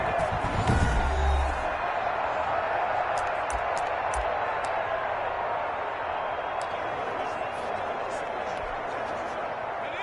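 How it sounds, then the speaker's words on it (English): Football stadium crowd cheering as the home defense holds on the opening drive, a broad steady roar filling the background beneath a play-by-play announcer's voice. "this crowd loves it as their guys hold on the opening drive"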